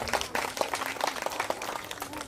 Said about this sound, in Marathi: स्वरांजली ग्रुपसाठी पुन्हा एकदा जोरदार टाळ्या म्हणून जाऊया